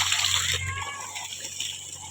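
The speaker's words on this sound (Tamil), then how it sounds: "தண்ணி எப்படி ஊற்றிட்டு இருக்குன்னு பாருங்கள்." Water gushing and splashing steadily through a farm garden plot with sugarcane, a continuous rushing flow close by, with a voice speaking briefly over it.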